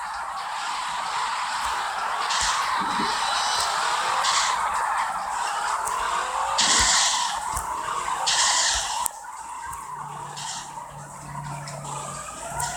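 Car tires screech and skid continuously in a racing video game burnout with a Supra, a loud sustained squeal over engine drone, shifting tone midway with no talk.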